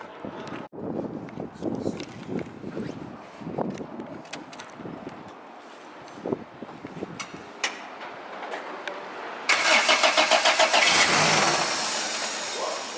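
A Honda K24 engine swapped into a Toyota MR2 cranks and fires up nearby, settling into a fairly quiet idle with a few blips, then a brief burst of louder revving near the end.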